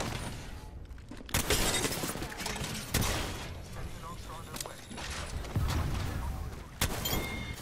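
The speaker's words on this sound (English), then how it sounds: "I'm shooting him." Gunfire in the battle royale shooter Apex Legends: loud, close, sharp shots in irregular bursts, some with a shattering crack, over a constant busy background.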